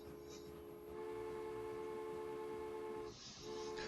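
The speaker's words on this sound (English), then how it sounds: "The Baldwin class seems to be really a bad train for climbing hills." A Baldwin six-wheel steam train in Transport Fever grinds uphill with a steady droning engine hum and tonal whine, continuous and moderately quiet, briefly dipping near the end.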